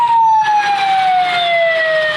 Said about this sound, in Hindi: ओ भाई पीछे एम्बुलेंस है यार, जल्दी कर दे